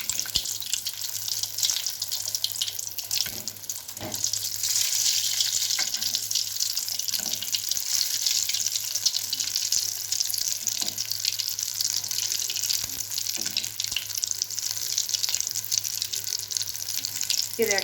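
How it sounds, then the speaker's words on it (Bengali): Potato snacks fry in hot oil that was already used for frying potatoes, giving a loud, steady hiss and bubbling sizzle with a few soft clinks from a ladle. "আমার আলু আগে যে ভেজে নিয়েছিলাম সেই তেলের মধ্যেই এবার আমি এটিকে ছেড়ে দেবো"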